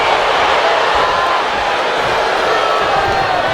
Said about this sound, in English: The crowd cheering for the Hearts and Ty, and booing for the Guerrillas of Destiny.